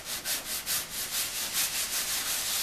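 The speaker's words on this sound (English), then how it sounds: "Sometimes I'll even sand in circles, back and forth." Sandpaper on a block rubs back and forth over an auto body panel in steady rhythmic strokes, a close, loud, hissing scrape repeating about five times per second with no talking.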